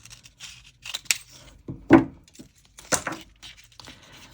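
Scissors snip through washi tape in a few short, crisp cuts, close by and quiet, with light papery rustling and small handling clicks between the snips.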